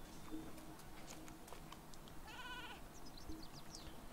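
Sheep Creep, a sheep enemy in the Skylanders Trap Team video game, bleats once in a short wavering call over a busy, noisy game soundtrack with steady clatter.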